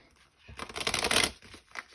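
Tarot cards being shuffled by hand make a soft, dense riffling flutter that builds over about a second, then fades into a few lighter flicks, close and quiet with no talk.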